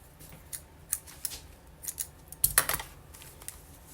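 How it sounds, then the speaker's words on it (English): Scissors snip through string at a craft table, giving a series of short, sharp, close clicks and snips in an irregular rhythm against a quiet background. "And I'm going to grab my scissors."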